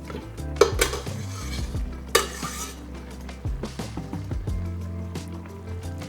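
Parmesan being stirred into a cream cheese pesto sauce in a pan, with a utensil clinking and scraping against the metal in irregular bursts, two louder knocks early on, close and alone without talk.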